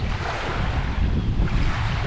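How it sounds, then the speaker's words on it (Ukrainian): Continuous rushing of waves on water mixed with strong wind buffeting the microphone, a broad steady wash of noise. "Як на морі, прям такі хвилі."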